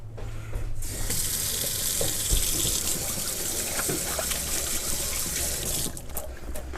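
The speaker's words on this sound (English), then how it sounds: "First thing we should always do is wash our hands." Hands are washed under a running kitchen tap, with a steady close splash and gush of water and some shifting splashes as the hands move in the stream, continuing throughout without speech.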